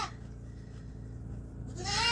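Goats bleat close by at a small homestead goat barn, a rising call building toward the end over steady low farmyard noise.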